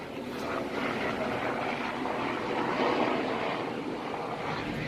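A propeller airplane passes over close to an airstrip, giving a steady, fairly loud droning rumble that swells slightly midway and stays continuous throughout.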